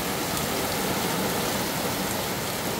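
Steady rain falls outside a home during a hot, stormy summer spell in the USA, a constant dense hiss with no voices over it.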